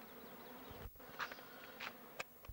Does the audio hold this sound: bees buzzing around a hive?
yes